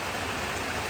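Steady rain falls in a remote village, a dense, even hiss of drops on surfaces with no pauses, close and fairly loud.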